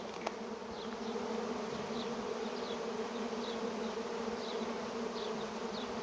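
Honey bee swarm crowding into a hive box, a steady dense buzzing hum that stays loud and even throughout, with no voices.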